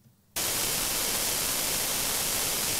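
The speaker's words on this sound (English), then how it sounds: "white noise, no multipath" Broadband white noise from an FM stereo demodulator output with no multipath, starting abruptly after a brief quiet moment and then holding loud, steady and uniform hiss to the end.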